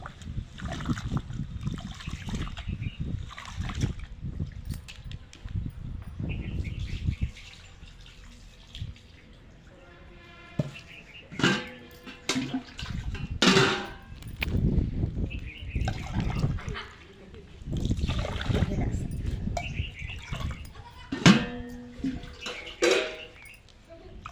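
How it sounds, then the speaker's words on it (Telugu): Two glasses of home-grown rice are washed by hand in water for a village-style chicken biryani. Sloshing, swishing and trickling water come in uneven bursts, close up, with a few quieter pauses between. "రెండు గిలాసుల బియ్యము మంచిగా కడుక్కోవాలి"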